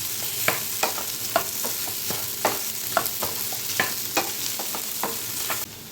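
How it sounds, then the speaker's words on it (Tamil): Mashed potato masala stirred in a pan, with regular spoon scrapes and taps against the pan over a soft sizzle, close and fairly quiet, ending abruptly. "நல்லா கிளறி விட்டுக்கலாம்."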